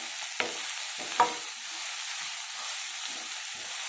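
Brinjal and green peas curry with fenugreek leaves frying in a pan, a soft steady sizzle with a couple of sharp clinks from stirring near the start, no voices.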